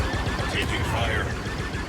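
Steady blaster fire in the Star Wars Outlaws video game, a continuous dense crackle of shots with a voice talking over it throughout.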